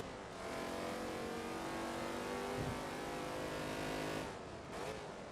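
A racing car in Forza Motorsport 2 holds a loud, sustained engine drone at high revs for several seconds, then briefly lifts off and rises again near the end.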